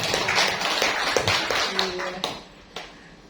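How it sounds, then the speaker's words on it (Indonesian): An audience at a school teachers' session claps hands in a short burst of mixed applause that fades out within a couple of seconds, with a voice speaking over it. "Oke, tepuk tangan."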